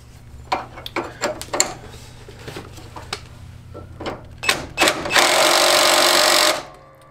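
A jam nut being tightened on the steering of a racing mower: a series of close metallic clicks and ratchet taps, then a sustained loud whirring of a power driver for about a second near the end.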